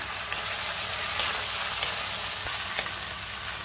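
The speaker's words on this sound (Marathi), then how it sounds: "पुन्हा छान 2 ते 3 मिनिटं मी व्यवस्थित परतून घेणार आहे हे वाटण" Ginger-garlic paste with tomato and coriander sautéing in hot oil for spicy chicken sukka, a steady close crackling sizzle with faint stirring scrapes throughout.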